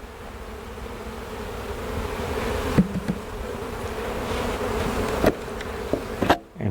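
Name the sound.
honeybees buzzing around an open hive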